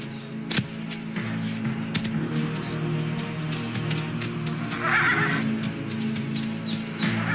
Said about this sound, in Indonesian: Cepat sembunyikan kuda.